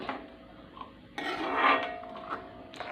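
Drumstick leaf curry being stirred in a pot with a utensil, soft scraping and rubbing against the pot in a short, quiet burst.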